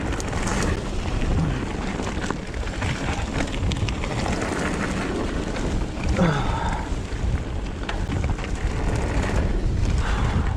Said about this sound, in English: Wind is quite strong here.